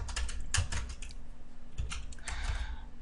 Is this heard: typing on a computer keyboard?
yes